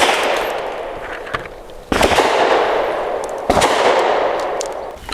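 Two sharp, loud reports from a Bersa TPR 380 Plus pistol firing Remington Golden Saber 102-grain brass-jacketed hollow-point rounds, each followed by a long ringing decay, spaced about a second and a half apart.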